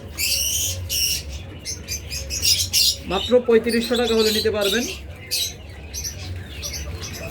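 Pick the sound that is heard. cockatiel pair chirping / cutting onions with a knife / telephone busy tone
cockatiel pair chirping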